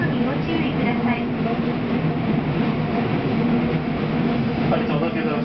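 Tokyu line local train with through service to the Minatomirai Line running between stations, a steady loud rumble and rattle filling the cabin throughout with no break.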